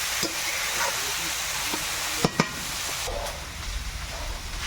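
Taro leaves with potato and spices being stirred in a frying pan: a soft continuous sizzle with scattered scraping taps of the spoon, including two sharper clacks near the middle, close and moderately quiet.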